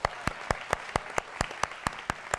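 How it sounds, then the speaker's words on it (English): An audience at a community talk on the opiate crisis claps for someone marking four years of sobriety. Sharp, evenly spaced claps sound close and steady, without much crowd noise behind them. "I think we can give that another round of applause."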